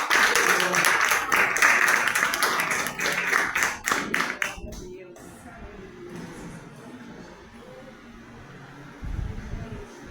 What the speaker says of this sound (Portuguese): Se você assim puder, aplauda Jesus bem forte.